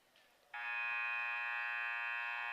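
A loud, sustained electronic horn blares at the end of a girls high school basketball game, Culpeper County against Chancellor, starting abruptly after a brief quiet moment and holding steady.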